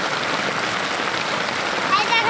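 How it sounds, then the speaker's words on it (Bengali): Steady rainfall pours down outdoors as an even, dense hiss of drops that holds constant throughout, with a faint chirp near the end. "আমাদের এলাকায় বৃষ্টি হচ্ছে।"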